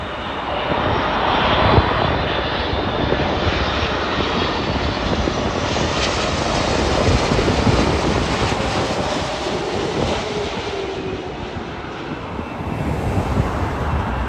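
A Korean Air heavy jet lands on runway 24 right at Los Angeles International Airport, its engines roaring as a loud, steady broadband rumble that holds for the whole stretch with no voices.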